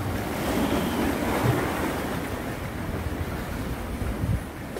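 Sea waves wash against a harbor at Hujin port in Yangyang during mackerel fishing, a continuous rushing surf with wind buffeting the microphone, loud and steady with slight swells in intensity.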